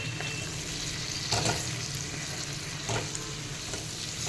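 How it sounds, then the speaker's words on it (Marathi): Paneer cubes being gently mixed into sautéed vegetables in a pan for paneer jalfrezi, giving a steady close sizzle of frying with two brief, soft stirring scrapes spaced apart, and no voices. "आपण हे पनीर घालूयात हे हलक्या हाताने मिक्स करून घेऊया"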